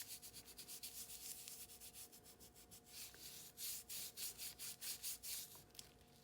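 A fingertip rubs glitter into craft adhesive on a stamped Santa and snowman card, making a dry, gritty scratching in quick repeated strokes, close and fairly quiet, growing more rhythmic toward the end.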